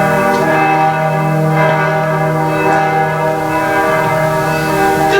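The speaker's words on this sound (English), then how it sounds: "Let us wake them with the bells!" Church-style bells ring steadily throughout a school stage production of A Midsummer Night's Dream, their sustained, layered tones loud and overlapping with no talking.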